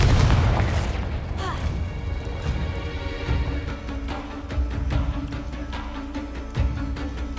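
Booming blasts from the Confringo fire spell in the Hogwarts Legacy video game, a heavy low explosion at the start followed by rumbling combat noise and scattered pops, loud and dense throughout.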